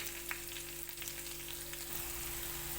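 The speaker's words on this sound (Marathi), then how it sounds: "कांदा पण आता चांगला भाजत आला" Onions and green chilies fry in a pan for pithla, giving a steady, continuous sizzle and crackle close to the pan with no voice.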